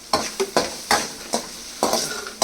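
Onions fry in a pan with turmeric and salt, stirred in a steady rhythm of about six scrapes over a continuous sizzle, close and fairly loud, with no talking.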